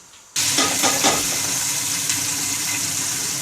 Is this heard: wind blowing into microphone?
no